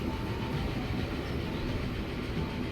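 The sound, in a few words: train running in Transport Fever 2 video game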